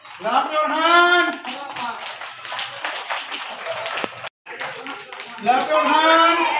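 An audience claps in bursts at a prize announcement ceremony, rhythmic group applause rising and falling, with a voice speaking over it between rounds.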